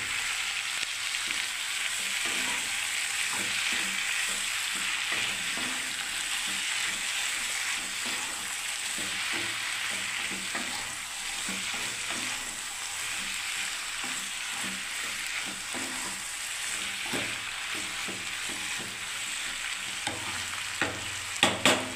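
Vegetables for a soybean and beans mixed dish sizzle and fry steadily in a hot pan, with occasional stirring clatter throughout and no talking.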